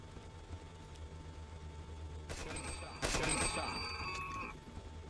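Gunfire in the hunting video game Dino Hunting 3D comes as a short burst of shots followed by a louder volley, over a faint background hum.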